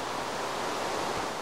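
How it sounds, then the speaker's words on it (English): Steady hiss of rain falling in the Minecraft video game, a continuous broadband wash with no distinct drops or pauses, moderately quiet throughout. "It's raining again."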